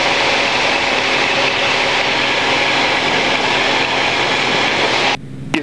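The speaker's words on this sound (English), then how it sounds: "even though we stall the airplane, you'll watch for the buffet now." Light airplane held in a stall out of a very steep turn during aerobatics training, loud steady engine and airflow roar filling the cockpit throughout, with a sudden drop and rattling shift near the end.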